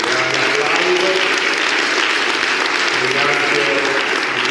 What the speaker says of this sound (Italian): ringrazio il direttore Carlo Rapicauri al quale chiedo un grande applauso